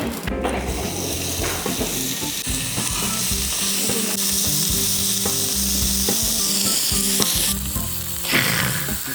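Black pork neck sizzles loudly on a hot grill, a steady crackling hiss with occasional clinks and shuffling as pieces are moved around.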